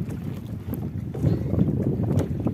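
Strong wind buffets a small fishing boat out at sea, a constant low roaring rumble and microphone gusts that swell louder partway through, with no voices.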